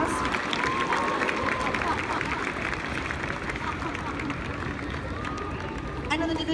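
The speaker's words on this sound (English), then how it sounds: "We'll just give them a little round of applause" An outdoor audience gives a choir a round of applause after a music festival result, dense clapping mixed with crowd murmur, held at an even level throughout.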